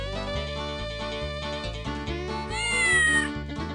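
A cartoon cat meows loudly in The Incredible Machine 3 puzzle game, heard over steady, rhythmic game music, with the meow swelling near the end.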